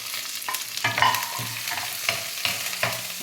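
Onions frying in a little oil over a medium flame, with garlic, cumin, curry leaves and green chillies, a steady close sizzle broken by rhythmic scraping stirs of a spoon in the pan.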